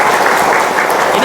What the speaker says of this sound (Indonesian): Tepuk tangannya yang keras.